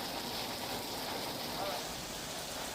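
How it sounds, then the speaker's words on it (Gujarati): Heavy monsoon downpour in rural north Gujarat, a dense steady roar of rain hissing on surfaces without letup, loud and close. "અહીં પણ મુશળધાર વરસાદ પડી રહ્યો છે"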